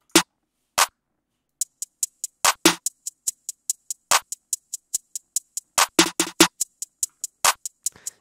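A programmed snare roll layered with a clap, crisp percussive hits over a regular ticking pulse that thickens into quicker clustered strikes near the end, dry and close with no speech.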